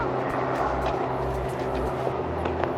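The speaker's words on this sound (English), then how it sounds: "this is the Billy Bishop Airport, and there it is if you saw the plane land" Aircraft at Billy Bishop Airport on Toronto Island, a faint, steady low engine hum with a drone underneath and light ambient noise over a few seconds.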